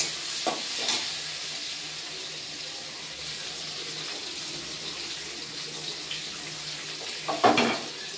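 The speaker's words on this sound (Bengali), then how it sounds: "সবগুলো একসঙ্গে এবার ভালো করে ভেজে নেব" Papaya curry with cloves and cardamom frying in a pan, a steady close hiss of sizzling oil with a few brief spoon scrapes near the start and a louder clatter toward the end, no speech.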